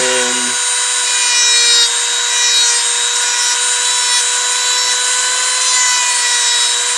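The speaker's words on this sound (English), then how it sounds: "just grind it down to the line that you drew on the pipe." A two-speed power tool at its highest speed grinding a pipe down to a drawn line, giving a loud, close, continuous high whine with a rough scraping texture that holds steady for several seconds.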